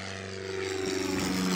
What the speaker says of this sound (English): we're just gonna wait for another plane to go